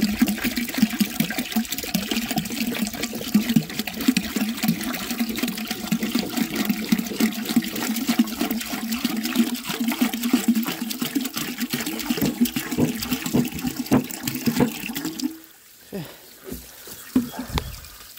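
A 1905 forward trap toilet flushing with one gallon of water poured in, a rushing, gurgling swirl of water that runs steadily before draining abruptly to a few faint trickles and gulps.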